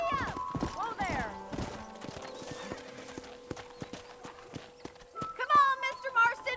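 Horse hooves clip-clop steadily at a walk-to-trot pace across a farm setting in the Red Dead Redemption video game, with a horse whinnying and a voice speaking over the hoofbeats.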